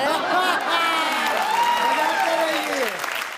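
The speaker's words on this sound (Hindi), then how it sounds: "ये तालियां बजनी चाहिए" Audience applause at a Bhojpuri comedy and poetry reality TV show, a dense, loud, continuous clapping from a crowd lasting a few seconds, with a voice running over it.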